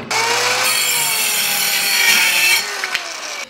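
A Dovaman mini circular saw rips through a two by four in one continuous, loud, close cut lasting about two and a half seconds, then the whining blade spins down briefly.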